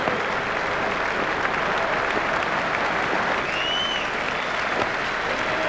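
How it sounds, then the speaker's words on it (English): Sustained applause from a cricket stadium crowd standing to acknowledge a batsman's half century in a Sri Lanka versus Australia T20 match, a steady dense roar of clapping at even loudness throughout. "Crowd are standing to applaud him"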